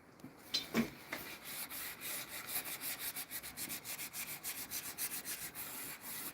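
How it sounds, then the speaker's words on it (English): Steady abrasive rubbing of a fiber sanding disc on a wooden cabinet door, a rhythmic back-and-forth rasp repeating quickly, close and fairly quiet, with no voices. "Especially using these fiber sanding discs."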